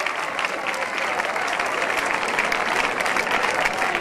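Full, even applause from an assembled audience at a Teachers' Day event, a dense wash of many hands clapping continuously for a few seconds without talk.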